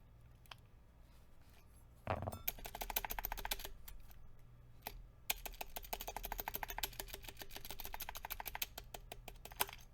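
Typing on an electro-capacitive keyboard with ceramic keycaps, a few isolated clicks first, then a fast, dense run of sharp, close keystrokes with brief pauses between flurries.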